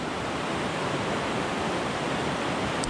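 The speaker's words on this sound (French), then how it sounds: "C'est impressionnant la puissance qu'a cette rivière." Snowmelt from the mountains drives a powerful river whose rushing water makes a continuous, full-bodied roar, near and loud, with no speech.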